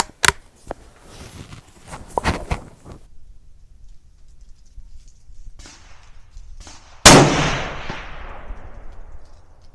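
A Ruger American Predator rifle fires while being sighted in. Several sharp reports sound close by, and one loud shot near the end rings out into a long decaying echo. Quiet gaps separate the shots.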